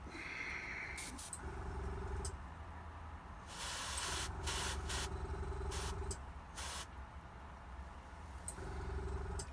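An airbrush spraying paint on a miniature gives off bursts of close, breathy hiss that start and stop several times over a low mechanical hum, likely from a compressor.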